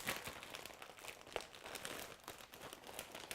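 A plastic sandwich bag crinkles steadily for several seconds while freezer meal ingredients are packed, giving a close, continuous rustle with small sharp crackles and no talking.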